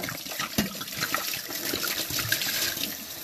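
Water runs and splashes steadily into a container while it is being rinsed in a home kitchen, a close, continuous gush with small clinks and sloshes throughout.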